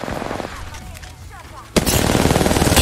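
Rapid automatic gunfire in a fast-paced shooter video game, a dense loud burst of rattling shots, a quieter pause with short sweeping effects, then a sustained loud volley, alongside talking.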